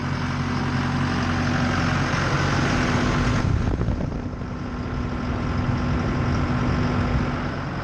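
A John Deere engine running steadily after a serpentine belt replacement, a loud, constant idle with a low rumble and a faint whine, close up with no talk.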